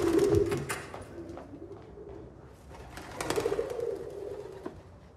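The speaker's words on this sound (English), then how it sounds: "Perhaps in hindsight, you shouldn't have gone with the doves." Doves coo in a few low, rolling bursts, one near the start and another after three seconds, fairly close, set against a muffled background of flutters and crowd noise.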